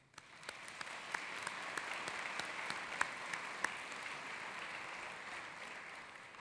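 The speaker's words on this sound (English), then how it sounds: "You all deserve a round of applause." Applause from the audience at the West Virginia University School of Dentistry's 142nd commencement, a soft, distant wash of clapping with a few sharper individual claps standing out, steady throughout.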